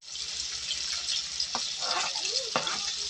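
Garlic and chicken meat are sautéed in a pan for chicken tinola, giving a steady close sizzle with occasional scraping and stirring clicks from the utensil.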